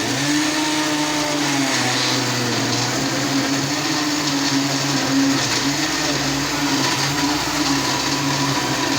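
A kitchen blender whirs steadily as it blends peach (aroo) juice with half a glass of water and basil, a loud, continuous motor drone that holds constant throughout with no talking.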